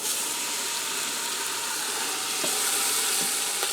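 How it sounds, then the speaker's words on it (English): Bottom round roast halves sear in hot olive oil inside a Farberware 8 qt pressure cooker, giving a steady, close sizzling hiss with faint crackles, and no voices are heard. "I'm going to get my 2 halves of the bottom round roast in there, get them nice and brown"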